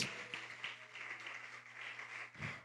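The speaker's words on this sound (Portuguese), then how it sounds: "Aplauda ao Senhor" Church congregation applauding during a worship service, a soft, steady patter of many hands with a low hum underneath.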